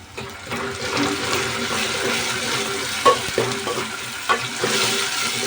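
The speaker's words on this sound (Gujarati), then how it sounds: "જ્યાં સુધી ટમેટા ન ગળી જાય ત્યાં સુધી આપણે આને સડવા દઈશું" Onions and tomatoes sauté in a pan for an ojri (tripe) curry, giving a steady, close sizzle with occasional sharper clinks and scrapes of stirring and no talk.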